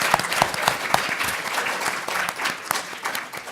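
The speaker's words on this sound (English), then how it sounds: "I want to give a warm applause to the panel and thank them for the contribution" A conference audience applauds a patient panel at the close of an acromegaly conference, with individual sharp claps standing out inside a lively, sustained round of clapping.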